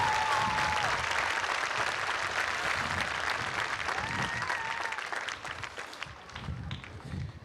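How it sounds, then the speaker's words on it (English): A large audience at a high school graduation ceremony claps steadily, the dense applause gradually thinning toward the end, with faint voices and cheers mixed in. "Can we give our team a round of applause for putting on a great event for our seniors?"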